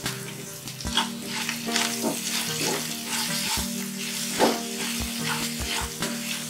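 Salt, turmeric and red chili powder are stirred through hot oil for Bengali potato with poppy seed, a close bubbling sizzle broken by sharp spatula knocks and scrapes against the pan, with no voices.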